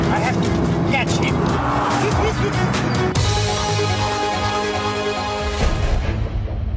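Two brand-new Porsche Caymans, one automatic and one manual, race head-to-head on a track. Engine roar is loud and continuous with a rising shift and tire squeal, and talk is mixed over it.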